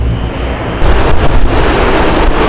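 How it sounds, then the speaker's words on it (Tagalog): Gentle, steady rush of flowing river water, a broadband wash that swells louder partway through and continues evenly, with wind buffeting the microphone. "Sinundan namin ang marahang ragasan ng tubig."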